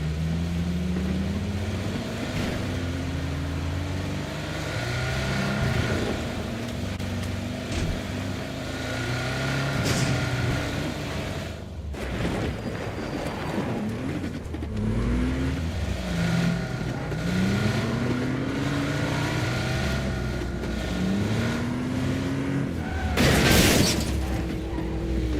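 A Porsche car engine in the video game PUBG, droning steadily with repeated rising gear-change sweeps as it accelerates, close and loud, with a sharp burst near the end.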